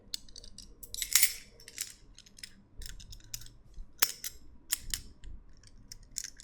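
Metal keys jingle and clink in short irregular bursts, close and fairly quiet, with a few sharper jangles standing out from the rattling.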